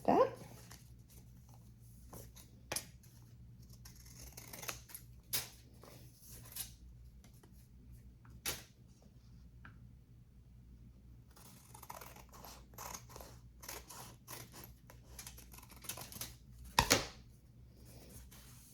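Scissors snip through paper cut from an old envelope, a series of short, sharp clicks spaced irregularly over a quiet room hum, with a louder cluster of cuts near the end.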